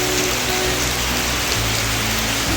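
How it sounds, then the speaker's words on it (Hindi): Heavy rain pours down outdoors during an Assamese rice ceremony, making a steady, dense hiss that continues without pause. No one speaks. "पूरा बारिश"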